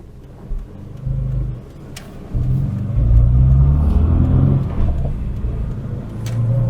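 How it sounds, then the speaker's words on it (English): An Austin Maestro City with the old A-series engine rumbles low, then pulls away with a steady, throaty drone that builds gently without high revving. "No need for high revs because it's the old A series engine."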